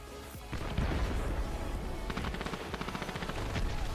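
Rapid gunfire in the video game Dirty Bomb, with dense bursts of loud automatic shots that settle into a fast, regular rattle, close and continuous with no talk.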